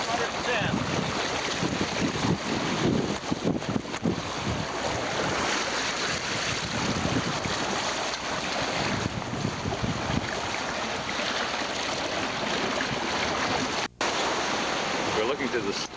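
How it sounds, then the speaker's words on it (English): Ocean waves rush steadily past a sailing ship during the Columbus 500 Regatta off Spain, a continuous broadband wash mixed with wind buffeting the microphone, loud and unbroken apart from one brief dropout. "you can see the majestic ocean waves sweeping by"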